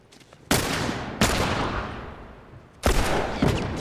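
Gunfire from the video game The Last of Us comes as three loud, sudden shots spaced apart, each one trailing off in a decaying echo.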